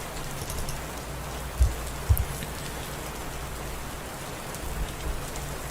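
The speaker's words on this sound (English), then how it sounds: "This rain background" Steady rain falls throughout, a dense hiss with a couple of louder drips or taps standing out near the start.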